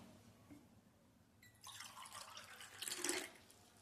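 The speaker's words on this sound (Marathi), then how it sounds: "2 ग्लास पाणी घालायचं यामध्ये." Room-temperature water, about two glasses, pours into mashed bael fruit pulp for a summer sharbat, starting quietly and swelling into a splashy, liquid rush that peaks near the end, with no talking.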